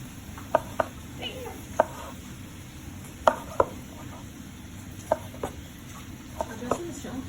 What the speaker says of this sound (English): I'm letting the knife actually cut the tomato and stuff